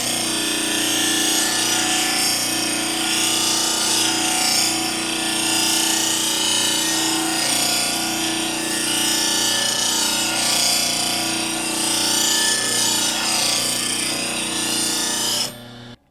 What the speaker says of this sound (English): So now take it back to the grinder and sharpen it down till this clear reflected surface disappears.